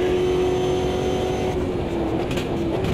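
A race car brakes at Monza in the racing game Automobilista 2, its engine a steady, loud, close drone with a slight shift in tone partway through, no voices.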